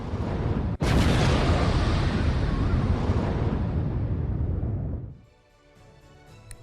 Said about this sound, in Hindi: इसी हमले में रूसी मिसाइल लॉन्चर में विस्फोट की यह तस्वीर देखिए